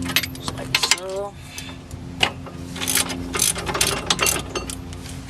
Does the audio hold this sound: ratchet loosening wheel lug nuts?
yes